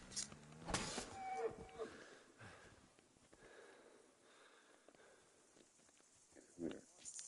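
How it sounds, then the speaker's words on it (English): A cow lows in the game Kingdom Come: Deliverance 2, a short moo near the start against faint rural ambience, followed by quieter scuffs and shuffling, with a brief louder sound near the end. "Come on, move it, cow."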